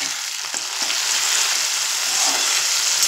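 Chopped tomato pieces fry in a pan with a continuous bright sizzle, close and fairly loud, with faint stirring movements underneath.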